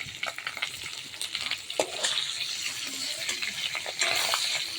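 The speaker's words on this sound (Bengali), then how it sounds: "বেশি ভাজবো না, একটু হালকা ভেজে নেব" Large fish heads fry lightly in oil in a pan, making a steady close sizzle with sharp crackles and stirring or turning noises throughout, with no talking.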